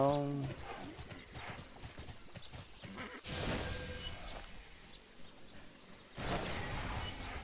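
Horse hooves clip-clop at a steady trot in the MMORPG TERA, with a brief whinny at the start and a swishing game effect, while someone talks over it.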